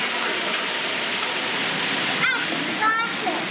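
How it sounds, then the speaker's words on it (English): A waterfall pouring into a swimming hole in the Australian bush, producing a steady broadband rushing roar throughout, with brief chirping birdsong over it near the end. "Yeah, that's the waterfall there."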